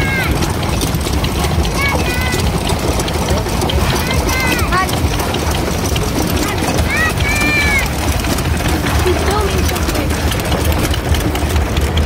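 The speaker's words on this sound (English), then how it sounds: "Look at this lad here for a water pump." Engine-driven water pump running steadily at an engine show among diesel, steam and generator engines, a continuous mechanical chug with rhythmic knocking, people chatting throughout and other machinery running nearby.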